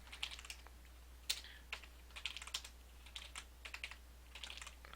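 Computer keyboard keys clacking in an uneven run while formatting a Word document, including a press of the tab key, quiet and close with no voice.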